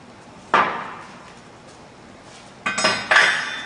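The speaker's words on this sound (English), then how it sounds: "With your alignment tool, remove the pin, lightly tap on it" An alignment tool taps out the connecting-rod drive pin of a progressive cavity pump, three sharp metallic knocks, one early and two close together near the end, over a quiet background.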